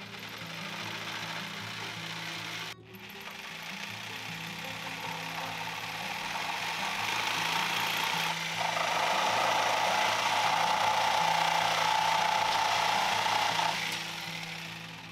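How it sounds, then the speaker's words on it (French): A hacksaw rasps back and forth through plastic in a steady rapid rhythm, close up, with one brief pause early on. "Pour couper du plastique, on peut réutiliser aussi une scie à métaux"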